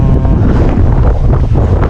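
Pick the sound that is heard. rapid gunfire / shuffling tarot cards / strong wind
strong wind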